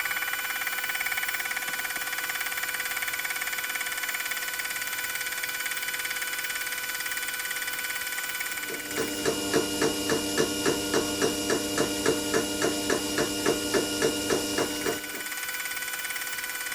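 A belt-driven mini milling machine fly cutting, its steady motor whine joined midway by a rapid, even series of loud cutter strikes for several seconds before easing back to a smooth running hum.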